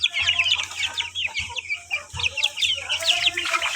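Rhode Island Red heritage gamecocks cluck and chatter in a farmyard flock, steady overlapping calls with a low rumble running beneath.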